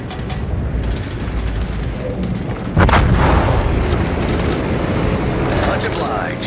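Heavy artillery fire in a video game booms and rumbles continuously, with a louder burst partway through and dense explosive texture throughout, while a voice speaks over the barrage.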